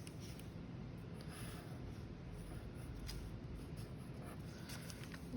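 A Sharpie marker is traced across paper, a faint continuous scratchy rubbing under steady background hiss, close but quiet with no talking.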